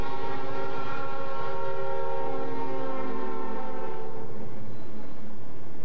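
A locomotive horn on the New Hampshire Northcoast Railroad blares close and loud in sustained chordal tones, with the rumble of the moving train beneath, as it sounds its signal approaching a crossing.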